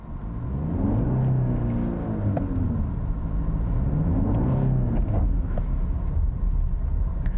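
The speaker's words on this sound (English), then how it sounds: "I'm going to turn off the traction control here. I want to see how it accelerates here." A Genesis GV80 2.5T SUV with rear-wheel drive accelerates with traction control switched off, its engine a steady, deep rumble that rises and swells in pitch twice as it pulls through the gears, heard from inside the cabin.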